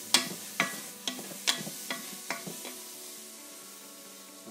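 Mushrooms, onions and peppers sizzle in butter in a pan alongside a steak, with a series of sharp stirring clacks over a steady, soft frying hiss and no talking.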